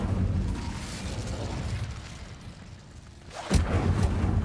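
Incendio fire spell in Hogwarts Legacy, heard after a stretch of rumbling background as a sudden loud whooshing burst near the end, followed by crackling flame noise.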